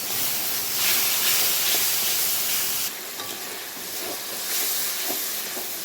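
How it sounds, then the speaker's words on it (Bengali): Spice paste frying in a wok hisses and steams loudly and steadily after water is poured in, the sizzle dipping briefly midway and then rising again, with no talk. "মশলাটা একটু ভাজা হয়ে গেছে আমি একটু জল দিয়ে দিলাম"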